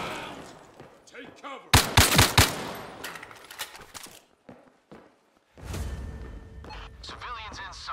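Bursts of automatic gunfire from the Zero Caliber VR shooter game, a loud cluster of rapid shots near the two-second mark amid scattered thumps, with someone talking over much of it.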